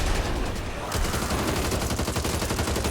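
Rapid automatic gunfire aimed at zombies in Back 4 Blood, a dense continuous burst of shots that runs for the whole stretch with a short change in tone near the start.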